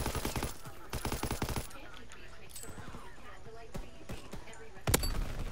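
Rapid bursts of gunfire from Call of Duty WWII, several clustered volleys and sharp single shots, loud and close, with voices talking over parts of the fight.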